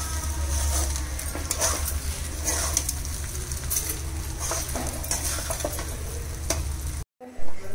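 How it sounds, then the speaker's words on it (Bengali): Rice being stirred into melted butter in a pan makes a continuous soft sizzle, broken by repeated scraping and tapping strokes close by, before the sound cuts off abruptly near the end. "ওটা বাটারটার সাথে পুরোটা মিশিয়ে দিব রাইসগুলোকে"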